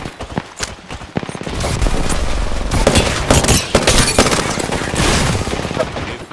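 Rapid bursts of gunfire and loud weapon blasts in an Apex Legends Arenas match, dense and continuous, with a few brief sharp shots at the start before sustained firing.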